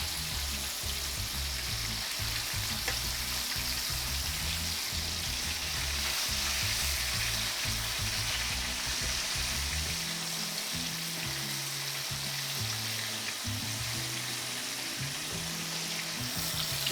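Chicken pieces fry in hot oil for a chicken wrap, giving a loud, steady sizzle that runs the whole time with occasional soft stirring knocks and no talk.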